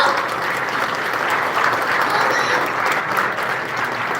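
A church congregation claps together in a dense, steady wash of applause that stays loud and even throughout, with no voices standing out above it.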